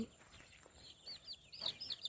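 Two mother hens with about ten newly hatched chicks each: quiet, close barnyard sounds with soft clucks and bursts of thin high peeping from the chicks, louder near the end.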